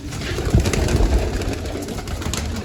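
A female pigeon that has just landed coos nearby, low muffled calls with a few soft thumps over a steady background hiss.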